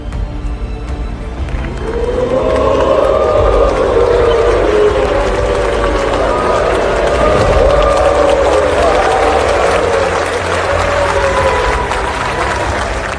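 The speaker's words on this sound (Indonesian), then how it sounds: "terdengar suara sorakan hu dari peserta sidang yang juga disertai tepukan tangan" A large crowd at a formal session lets out a sustained jeering roar mixed with clapping, loud and continuous for several seconds.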